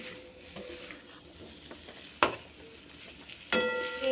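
A spatula stirs ground cumin and coriander frying in a pan for a vegetarian potato and cauliflower dish, with a quiet steady sizzle and a few sharp scrapes and knocks against the pan.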